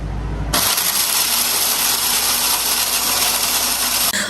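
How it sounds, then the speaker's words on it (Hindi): A mixer grinder grinds homemade garam masala with a loud, harsh, high-pitched motor roar that starts abruptly and runs for several seconds before cutting off. "ये देखें अच्छी तरह से सारा मसाला ग्राइंड हो गया है।"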